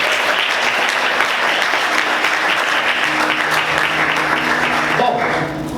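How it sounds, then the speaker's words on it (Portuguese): A church congregation applauds loudly and steadily, a dense wash of many clapping hands with voices mixed in, easing off slightly at the very end. "Aplauda o Senhor bem forte"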